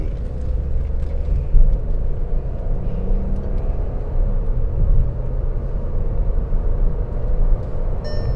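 A 2025 Skoda Kylaq in sports mode gives a steady low rumble of engine and road noise from inside the cabin as it gathers speed, with no voices.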